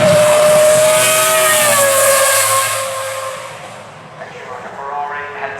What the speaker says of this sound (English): Ferrari heads up the hill and the accomplished race driver himself